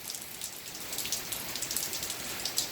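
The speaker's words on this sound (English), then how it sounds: "Raining quite a bit right now" Heavy rain falls in a constant close hiss, individual drops pattering and splashing on concrete without pause.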